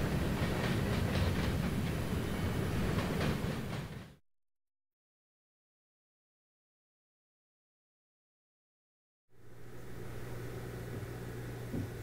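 A Norfolk Southern freight train, train 11Z, rumbles past with rhythmic clatter and a steady roar, cuts to silence, then resumes with a lower continuous rolling drone.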